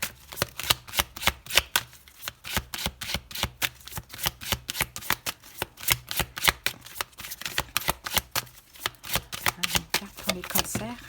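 An oracle deck, Les saisons de la sorcière, is shuffled by hand in a long run of rapid, crisp riffling cards, close and rhythmic, continuing for about eleven seconds.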